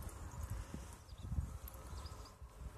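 A horse in riding training works on a lunge circle, its hooves making faint, uneven clip-clop thuds on soft ground.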